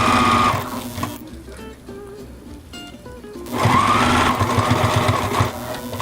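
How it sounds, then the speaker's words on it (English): A sewing machine stitches Velcro onto a wine bottle wrap being made into a doll sweater, running loud and steady at the start, pausing briefly with faint clicks, then whirring again continuously. "put the loopy side here and sew this down"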